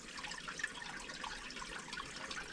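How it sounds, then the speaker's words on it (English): Creek water trickles over rocks on a calm hiking trail, a steady soft babbling wash with small splashes, continuous and fairly close, with no voices. "The water trickles over the rocks"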